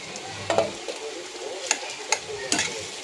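Onions fry in a pan for a Hyderabadi green chicken masala, a soft sizzle broken by a few sharp scrapes and taps of a spoon stirring, close by and without speech.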